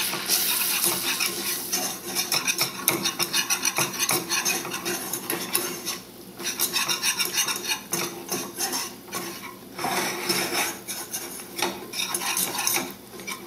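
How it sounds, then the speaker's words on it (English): Flour being whisked into a vegan white sauce in a pan, a continuous busy scraping and clinking of the whisk against the metal, with faint sizzling underneath. "And whisk that to combine."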